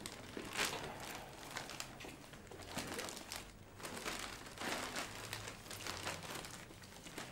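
A shopkeeper wraps a purchase in a crinkling bag, giving faint, irregular rustles and crackles with scattered sharper crunches throughout and no voices.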